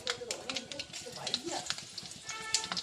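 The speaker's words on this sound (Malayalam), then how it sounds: "നമ്മുടെ എണ്ണ ചൂടായിട്ടുണ്ട്. അതിനകത്ത് കുറച്ച് കടുക് മണികളെ വാരി വിതറാം." Mustard seeds and dried red chilies crackle and sizzle in hot oil in a pan, a busy spattering of small pops and hiss with a faint voice talking in the background.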